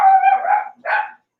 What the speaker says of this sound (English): The dog sounds like it's in distress